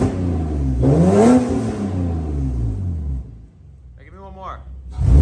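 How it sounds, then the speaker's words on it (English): A Lexus engine fitted with new aftermarket headers revs up hard in a garage, rising to a loud throaty peak and falling back to a rumbling idle, followed by a second brief blip; a voice speaks between revs. "we're gonna get the car warmed up and I will give you guys some revs"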